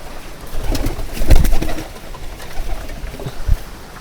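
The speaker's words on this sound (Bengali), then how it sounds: "আর এখানে কিছু দেশি কবুতর আছে" Domestic pigeons in a small loft coo in low, throaty bursts, close and fairly loud, with a few repeated calls over a soft background rustle.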